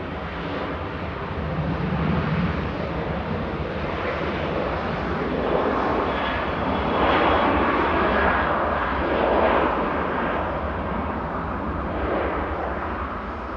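A TUI airliner rolls for takeoff bound for Ibiza at Manchester Airport, its engines making a steady, broad roar that swells and eases slightly as it powers away. There is no talk over it.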